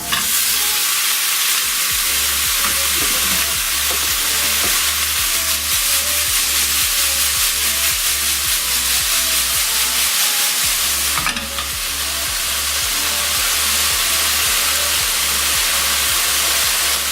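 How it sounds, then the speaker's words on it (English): Lamb pieces brown in a hot wok with a loud, continuous sizzle, under a steady rhythmic clatter of stirring that pauses once briefly and then carries on. "And now I'm going to return the lamb back to the wok or to my pan"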